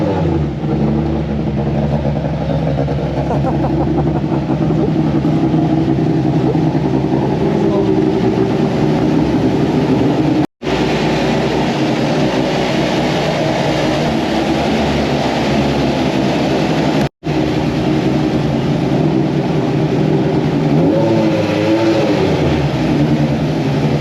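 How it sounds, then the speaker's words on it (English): A former British Touring Car race car runs on a rolling-road dyno, its engine droning loudly and steadily, broken twice by brief gaps, with a voice speaking over it. "Ex-British touring car, John Balfour's car, exciting stuff going on the dyno."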